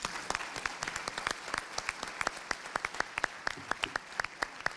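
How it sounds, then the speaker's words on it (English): An audience at a panel event gives a hand of applause, a continuous patter of clapping with many distinct, sharp close claps punctuating it throughout. "I would really appreciate if we give them a hand of applause."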